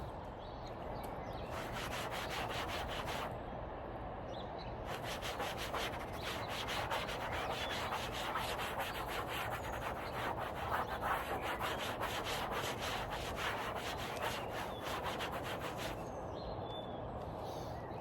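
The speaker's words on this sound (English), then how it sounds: "Quick little wipe over with some rubbing alcohol." Rubbing alcohol wiped over the raptor-painted body of a Sprinter campervan, a steady close rubbing and scrubbing with rapid strokes that continues for most of the stretch, with brief pauses and no talk.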